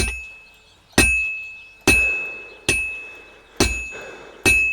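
Hammer blows on metal at a blacksmith's anvil in Kingdom Come Deliverance 2, six loud ringing strikes spaced about a second apart, each with a bright metallic ring decaying into the next, no talk.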